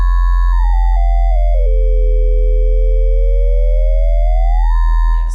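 A sine-wave sub-bass tone is amplitude modulated very fast, giving a loud, sustained synthetic drone whose pitch glides down, holds low and rises back up, with no other sound.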